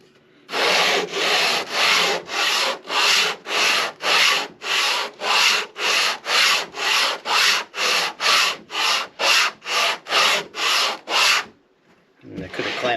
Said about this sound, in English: let's go ahead and sand this back. Only takes a second here on a nice flat sanding board